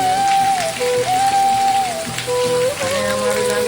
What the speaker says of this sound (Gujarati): જો અમારે વરસાદ ખૂબ ચાલુ છે